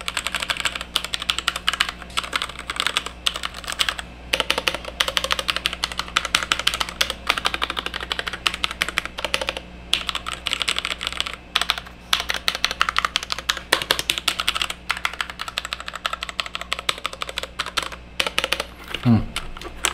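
Rapid, steady typing on an FA68 mechanical keyboard in a 60% layout, a dense run of close, crisp keystroke clicks continuing throughout with brief pauses, and a voice faintly under it.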